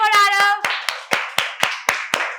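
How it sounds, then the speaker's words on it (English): A small group claps for a child performer in a spoken English class, about eight sharp, evenly spaced claps, close and loud, following a brief sung or voiced tone at the start. "Clap for Arav."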